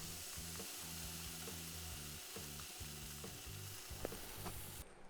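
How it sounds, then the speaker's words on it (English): Buttered hot dog buns toasting on a hot surface, a steady soft sizzle under a rhythmic low mechanical hum that pulses on and off, with a faint tap or two; no voices. "We're going to go ahead and give this a nice toast."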